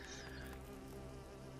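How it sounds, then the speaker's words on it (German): Wasps or hornets drone with a steady, faint, continuous insect buzz in the hidden-object game Nightmares from the Deep 3: Davy Jones, with no voices. "Hier haben wir wieder diese blöden Wespen oder Hornissen."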